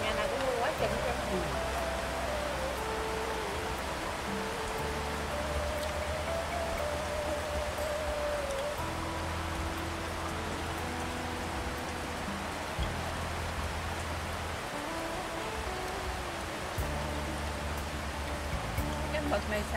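Heavy rain pours steadily on a house, a dense continuous hiss with patter throughout, loud and close, while people talk at times over it.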